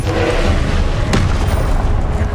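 Confringo blasting spell explosion in the Hogwarts Legacy video game, a loud continuous booming rumble with one sharp crack near the middle, dense and close throughout.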